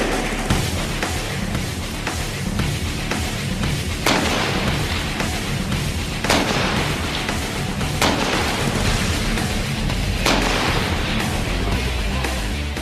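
South Korean army sniper rifle fired at a 400 m target outdoors, with roughly four sharp reports spaced about two seconds apart over a constant, heavy wind-like rush.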